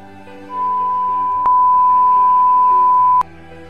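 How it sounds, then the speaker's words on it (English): A single steady electronic beep, clear and loud, holds for about three seconds, with a faint click as it starts and another midway. "another earpiece which gives you the same beep"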